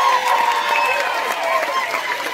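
A concert crowd at a show in Hackney, London, cheers and claps in a steady, dense wash for a couple of seconds, with scattered voices and shouts rising within the noise.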